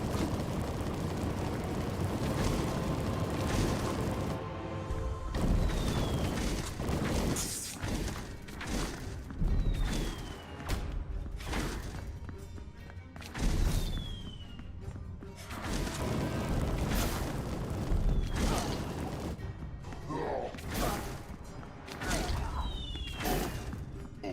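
Booms, thuds and whooshes from bombs exploding in the video game Romestead, with heavy impacts repeating every few seconds over a dense, continuous game soundscape.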